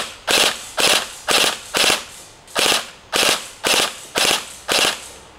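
Tokyo Marui MP5K custom airsoft gun firing in burst mode: nine sharp, loud bursts of rapid mechanical rattling, each a short cluster of clicks, evenly spaced about half a second apart with brief quiet gaps between.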